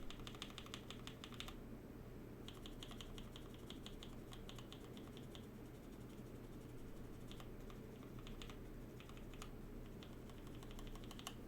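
Keys tapped on a Keycult No.1 keyboard fitted with lubed Vintage Black switches, quiet clusters of soft clacks with short gaps, fairly faint and with no talking.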